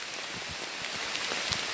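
Light rain patters steadily on a hiking trail, a soft continuous hiss with scattered drops close by.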